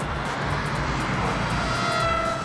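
An Air Hogs Jet Set RC black v-tail plane flies steadily overhead, its electric motor giving a continuous smooth whir with a faint rising tone near the end, heard alone without talk.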